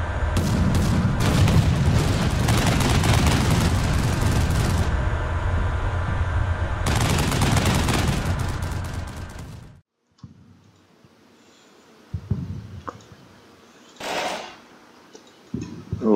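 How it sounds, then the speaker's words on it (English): Gunfire in the military game Combat Mission Shock Force 2 during a Marine ambush at dusk: dense, sustained rattling bursts that fill the first half, then quieter scattered shots and clicks after a sudden drop. "Can hear some firing."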